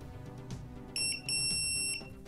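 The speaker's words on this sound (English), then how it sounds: "I admit the beeps on this are very loud" A series of loud, shrill electronic beeps sounds in short bursts, some longer than others, with quiet rustling between them.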